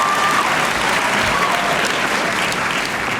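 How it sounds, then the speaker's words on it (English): A high school graduation crowd claps loudly and continuously for a student athlete, a thick, close wash of applause that holds steady throughout. "And you can clap."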